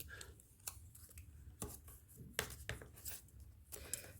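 Scissors cutting through scraps of paper for a Route 66-themed handmade card, a series of quiet, crisp snips at irregular intervals, close and soft against a low background.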